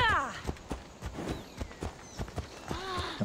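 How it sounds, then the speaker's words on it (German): Horse hooves clip-clop in a steady walking rhythm as a rider enters a farmyard in the video game Assassin's Creed Odyssey, moderately close, with brief voice-like calls mixed in. "Dann reiten wir doch hier mal gepflegt auf den Hof."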